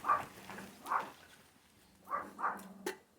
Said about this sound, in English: he barks incessantly at everyone